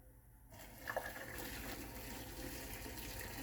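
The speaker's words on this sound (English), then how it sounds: "Let me drain off the water." Water is poured off a pot after boiling dumplings in a Caribbean home kitchen. It starts with a sudden gushing rush that keeps flowing steadily, close and moderately loud, with a brief clink near the start.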